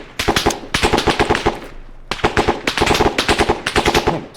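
Rapid bursts of shotgun fire in a co-op military shooter game, loud and close, coming in two dense volleys with brief pauses between blasts.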